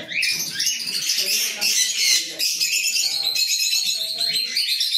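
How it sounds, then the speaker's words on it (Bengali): Pineapple conures in a bird loft squawk continuously in harsh, shrill bursts, a dense chorus of several birds close by with scattered chirps and low murmurs of voices underneath. "পাখিগুলো খুব শব্দ করছে।"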